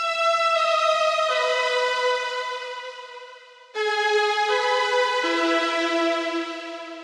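A remade synth lead intro in the style of a dance track plays bright, buzzy sustained chords stepping between pitches, fading out before a second phrase enters sharply and holds with a trumpet-like edge.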